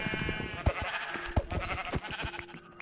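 Sheep in a video game bleat several times in quick succession, close and clear, with short wavering cries overlapping one another.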